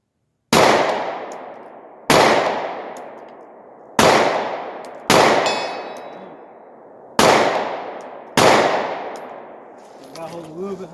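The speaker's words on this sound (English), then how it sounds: "we're going to do a little shooting today with this Holosun 507K ACSS" A pistol fitted with a Holosun 507K ACSS red-dot sight fires six loud, sharp shots at a target 65 yards away, evenly spaced about two seconds apart, each ringing out with a long echoing decay outdoors.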